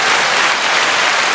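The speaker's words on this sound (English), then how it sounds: "And golf clap." Steady applause from a small group clapping continuously and fairly loud, a dense patter of hand claps with no pause, offered as a golf clap for a weekly winner on a sports show.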